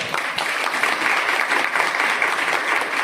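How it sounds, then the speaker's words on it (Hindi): A church congregation in Phagwara, Punjab claps hard during a worship service, producing a loud, sustained crackle of many hands that stays even and steady throughout without voices on top. "जोरदार ताली बजाइए।"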